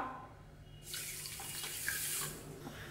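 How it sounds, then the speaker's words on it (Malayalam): A cup of water pours into a pot of sugar for syrup, a steady rushing splash that starts abruptly about a second in and runs at an even level to the end, with no talk. "ഇതിലേക്ക് ഇനി ഒരു കപ്പ് വെള്ളം ഒഴിച്ചു കൊടുക്കാം"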